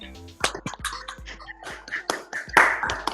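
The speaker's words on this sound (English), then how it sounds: "give Michelle and Mason a huge thank you and round of applause" Scattered individual claps and taps from online meeting participants, coming through separate microphones as uneven, sparse bursts that build briefly toward the end.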